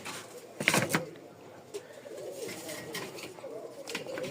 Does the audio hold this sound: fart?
no